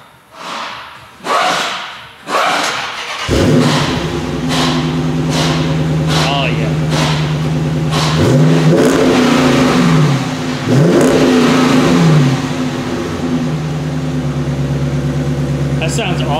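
A car engine with a new Borla S-Type sport exhaust fires up and idles with a deep, loud exhaust tone, then revs hard a couple of times, rising and falling, with thumps and movement early on.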